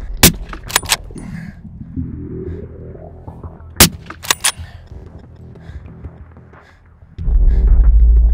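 A rifle shot rings out during a Mid Asian ibex hunt in the mountains of Kyrgyzstan: sharp loud cracks near the start and again near the middle, with low rumbling and wind noise between them, ending in heavy buffeting.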